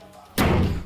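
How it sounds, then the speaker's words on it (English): A door slams shut in a single loud, sudden bang that rings out briefly, after a quiet stretch with faint background noise. "and then the door slams"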